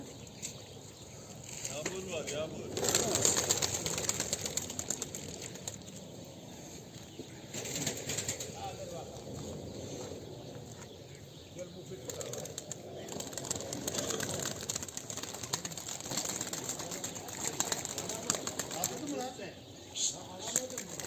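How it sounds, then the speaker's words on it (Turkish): Pigeons flap their wings and coo in a steady flurry, with muffled voices now and then in the background. "Güzel kuşlar, meziyetli kuşlar."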